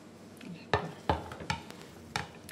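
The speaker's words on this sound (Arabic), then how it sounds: "هاد البصله اللي درنا فيها الملحه نحركوها مزيان هكا" Salted onion for a fish tagine is stirred in a pan, with a few sharp utensil knocks against the pan over a faint sizzle, close and spaced irregularly.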